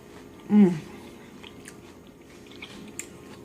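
Someone bites and chews collard greens cooked with onion, one crisp bite up close followed by soft, quieter chewing.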